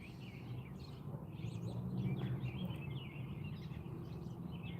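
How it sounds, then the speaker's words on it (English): Small birds chirping at sunset near a small town as traffic dies down, scattered thin calls and tweets over a low steady background rumble, moderately faint, with no talking. "bird chirping sounds very beautiful"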